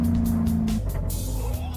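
Alfa Romeo car engine on the overrun, a close, loud rumbling drone with a falling tone and crackling burble as the revs drop, heard briefly without talk.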